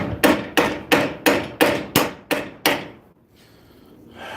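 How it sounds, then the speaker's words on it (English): Hammer blows on a chisel set against a railroad spike axe, eight evenly spaced, loud ringing metallic strikes about a third of a second apart, each decaying quickly, then a brief quiet with faint background noise. "I can chisel."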